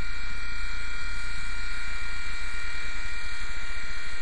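Small RC helicopter, a WLtoys V911 or TREX 100X, hovering nearby with a constant high-pitched electric motor whine and steady rotor buzz.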